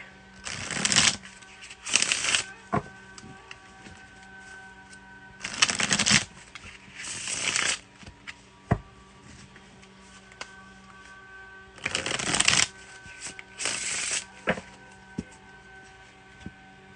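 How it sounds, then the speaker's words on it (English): Cards are riffle-shuffled three times, each a pair of quick crisp riffles, with faint clicks and handling noises between. "One more shuffle."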